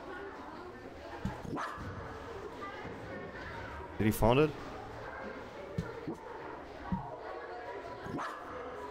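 A dog barking in the video game Ian's Eyes, a short burst of a few sharp barks near the middle, rising above steady game ambience, with someone talking over much of it.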